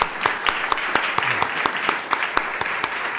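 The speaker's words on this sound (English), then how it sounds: "Let's give Tracy and Laura and everybody who's put on such a fabulous conference a round of applause." Conference attendees give a round of applause, a steady wash of clapping with sharp individual claps punctuating it, moderately loud and sustained throughout.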